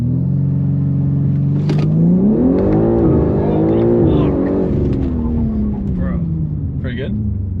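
A built AWD BMW G80 M3 launches hard off a brake boost, its engine droning loud and steady, then climbing in pitch as it pulls away, with people talking briefly over the rising engine note.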